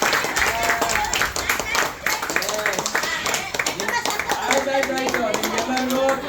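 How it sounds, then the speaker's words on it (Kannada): An audience at a trust gathering in Bangalore claps loudly in a dense, continuous burst of many hands, with voices mixed in under the applause. "ಎಲ್ಲ ಜೋರಾಗಿ ಚಪ್ಪಾಳೆ ಹೊಡಿದೆ"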